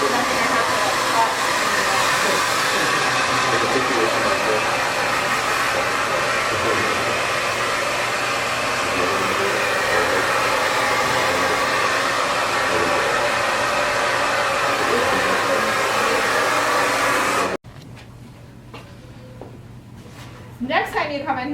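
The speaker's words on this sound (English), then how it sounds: "I'm gonna blow dry it and see how it wants to naturally lay." A hair dryer blow-drying a pixie-cut client's hair in a salon runs as a steady, loud, close whoosh for about seventeen seconds, then shuts off abruptly, leaving quieter room sounds with people talking.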